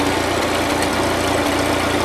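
A 1941 Ford 9N tractor engine runs close by, a loud steady idle with a rhythmic low chug and faint knocking beats throughout.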